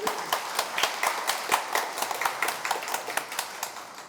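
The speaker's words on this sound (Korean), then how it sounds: "특별한 박수를 제가 드리고 싶습니다." A congregation at a memorial worship service claps steadily, with distinct individual hand claps standing out over a continuous bed of applause throughout, moderately loud and even in rhythm.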